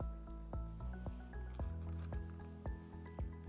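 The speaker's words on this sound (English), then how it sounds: "Then add the strawberries." Soft, squishy plops and drips as strawberries go into a jar of layered overnight oats, a few separate wet thuds, close and fairly quiet, with no voice.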